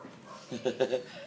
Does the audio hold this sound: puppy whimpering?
yes